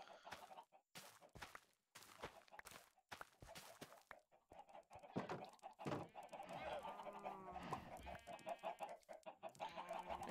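Chickens clucking in the Minecraft video game, a series of short clucks repeated in bursts, then overlapping with steadier game sounds and other animal noises toward the end.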